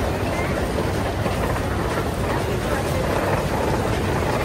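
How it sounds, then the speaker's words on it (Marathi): A train passing on rails in Russia near Moscow, a loud steady broadband rumble and rush lasting several seconds, with no clear voices over it. "एक ट्रेन आली आहे"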